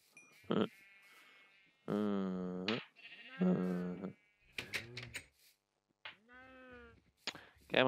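A sheep in a video game bleats several times, with loud, near, wavering calls separated by short silences and a few sharp clicks between them.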